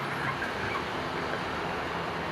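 Broiler chickens about 27 days old, raised on the fourth floor of a poultry building, make a dense continuous clucking and chattering din with no pauses and no talking.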